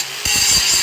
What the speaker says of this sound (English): take the handy dandy grind-o-matic, clean up them welds